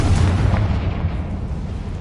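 The Confringo fire spell goes off in Hogwarts Legacy, a loud rumbling blast with a sharp onset that decays into a sustained low roar.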